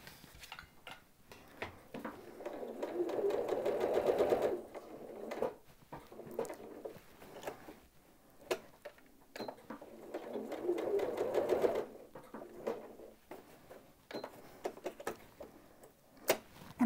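A sewing machine with a walking foot runs in two fast bursts of quilting stitches, each a few seconds long, separated by quieter stretches of clicks and handling taps at close range.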